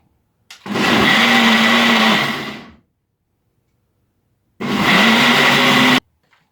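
A kitchen blender whirs loudly while pureeing celery for juice, running in two close, steady bursts of about two and one and a half seconds, separated by silence and ending abruptly.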